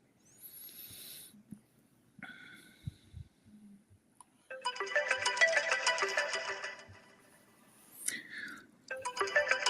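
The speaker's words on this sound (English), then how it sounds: "Is that the phone?" A mobile phone ringtone goes off during a radio talk show, a faint electronic melody that starts and stops in bursts, then plays a longer warbling stretch, with quiet gaps and brief sounds between.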